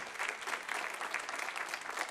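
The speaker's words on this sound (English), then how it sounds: "that audience applause is pathetic" Thin, steady applause from the audience at a 2020 US presidential debate, continuous and even across the moment, sounding somewhat distant and sparse rather than roaring.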